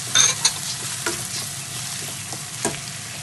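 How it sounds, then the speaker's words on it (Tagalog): Mixed vegetables of corn, green peas and carrots stir-fry into chaofan fried rice, a close, steady sizzle broken by a few sharp scrapes and clanks of the spatula against the pan. "So, lalagay naman natin yung ating mixed vegetable"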